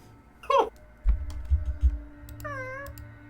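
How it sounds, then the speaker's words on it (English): An orange tabby cat in a video game lets out two clear meows, a short one early and a longer one near the end, with soft low thumps between them and no talking. "It is a living, sort of orange tabby cat."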